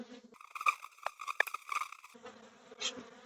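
Agitated honeybees during a hive inspection, a close, intense buzzing that swells and wavers as individual bees dart near, loud and unbroken with no talk.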